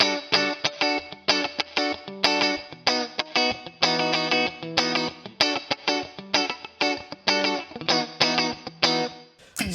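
Electric guitar run through a Two Notes Genome preset with a Fender-style cab loaded with V30 speakers and a touch of reverb, playing rhythmic chords with clear attacks and short gaps, steady and upfront with no talking.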